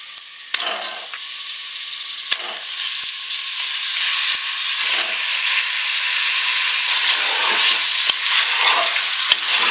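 Chicken frying with ginger garlic paste in a pan for country chicken curry, a loud steady sizzle throughout with occasional sharp clicks of a spoon against the vessel.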